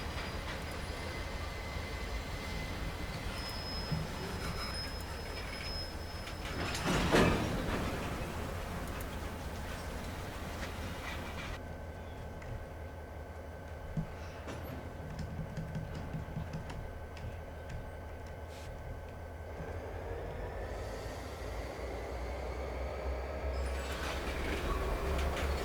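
A train shunting and coupling on the Sherman Hill route in Train Simulator 2017 gives a steady low rumble with a sharp metallic clank partway through, faint wheel squeal and clicking, all without talk.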